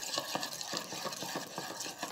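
Cream being stirred into melted chocolate in a bowl, a steady series of quick, rhythmic scraping and swishing strokes, close and fairly even in loudness.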